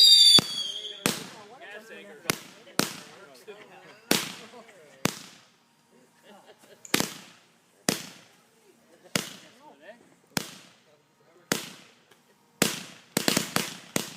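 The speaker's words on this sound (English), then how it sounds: "Ladies and gentlemen, fireworks." Fireworks and firecrackers at a neighborhood display go off in a long series of sharp, loud cracks and bangs, some in quick bursts near the end, with people talking between the explosions.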